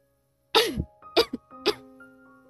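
A woman breaks off laughing into a run of coughs: three separate harsh bursts spaced about half a second apart, close and fairly loud, with quiet breathy residue between them and no speech.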